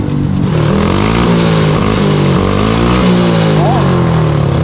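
A motorcycle engine is revved hard up to fourth gear while its chain alignment is checked after a flat-tyre repair. The loud, continuous whine repeatedly rises and drops in pitch as the rider runs through the gears.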